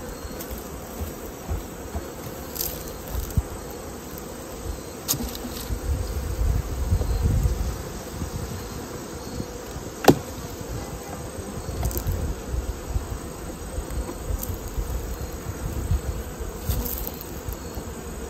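Honey bees buzz steadily around an open hive while frames are being swapped, a continuous insect drone with a few faint knocks and clicks of hive handling.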